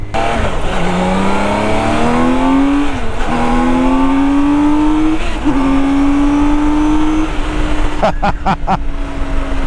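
A BMW K1600 GTL motorcycle accelerates hard through the gears, its engine pitch climbing, then dropping sharply at each of three quick upshifts, loud and close, with wind noise throughout.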